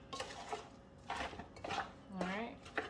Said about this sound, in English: I'm gonna stir it up nicely.